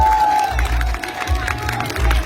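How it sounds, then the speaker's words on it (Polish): A crowd at a ghost pepper chili-eating contest claps and cheers the contestants, a loud, close, continuous burst of applause with whoops. "Uranimy brawa motywacyjne Ghost Pepper Fighters"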